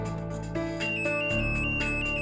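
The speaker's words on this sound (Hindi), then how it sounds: "अब अलार्म चालू करने के लिए सेंसिटिविटी नॉब क्लॉकवाइज घुमाइए।" A holiday detector's alarm sounds as its sensitivity knob is turned, a loud, steady electronic tone with layered harmonics that shifts pitch in short steps and stays continuous throughout, with no voices.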